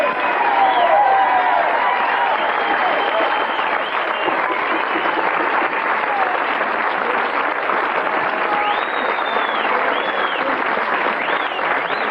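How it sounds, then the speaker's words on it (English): Studio audience at a 1985 televised stand-up comedy show applauds and cheers steadily for the whole stretch, a dense, loud wash of clapping with whoops rising above it. "give yourself a big round of applause for being a great audience"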